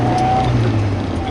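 A turbocharged EF Honda Civic engine, run after ten years in storage, hums steadily at close range with a low, even drone and faint background chatter.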